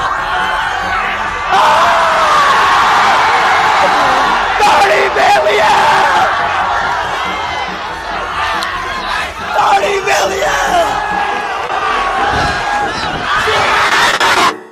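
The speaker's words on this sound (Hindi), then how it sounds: "उसके फैंस चिल्ला रहे हैं" IShowSpeed's fans scream and yell on a road where cars are stopped, a dense, loud crowd roar with whoops and shouts that holds steady throughout, briefly dipping before surging again.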